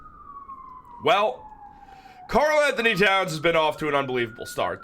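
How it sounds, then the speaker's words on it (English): Emergency sirens wail outside, a faint, steadily falling tone that carries on beneath someone talking loudly and continuously up close. "If you hear the sirens outside"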